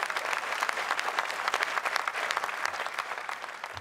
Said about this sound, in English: You ought to give Ken a round of applause